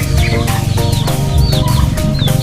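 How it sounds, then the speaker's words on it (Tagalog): Native turkeys in a backyard give close, loud, repeated clucks and short calls in an irregular stream, with several birds overlapping. "Ito pong pabo ko mga native po ito"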